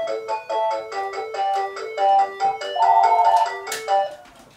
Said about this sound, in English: And I forgot to unplug the phone.